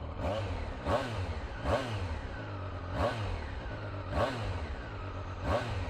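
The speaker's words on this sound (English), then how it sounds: "let's do a little sound check and see how the bike does in cold start with a couple of revs." A Triumph Daytona 660 motorcycle idles after a cold start and is revved in five regular blips, each a sharp rising and falling engine roar over a steady idle, close and loud.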